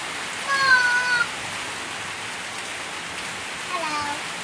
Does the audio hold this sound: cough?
no